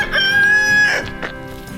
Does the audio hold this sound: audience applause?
no